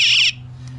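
Headlight reminder buzzer installed in a vehicle, blaring at full volume: a loud, piercing electronic tone for about a third of a second, then cutting off abruptly to a low hum.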